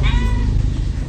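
A cat meows close by in a home kitchen where fish is being pan-fried, a single drawn-out call over a steady low background hiss.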